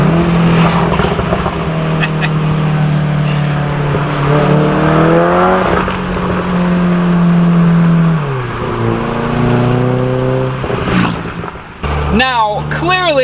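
A Volkswagen Golf R engine drones loudly under steady throttle, its pitch rising and dropping through shifts, with crackling exhaust pops and bangs near the end and a voice talking over it.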